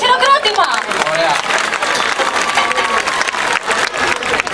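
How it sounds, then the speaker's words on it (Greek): An audience at a children's dance performance claps loudly and steadily, with shouts and voices mixed into the crowd noise throughout. "Για να τα ψυχώσουμε όμως ένα δυνατό χειροκρότημα."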